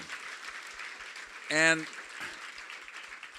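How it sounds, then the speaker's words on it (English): A town hall audience gives a soft, continuous round of applause that stays in the background while a speaker briefly talks over it. "So let's give Nancy a round of applause."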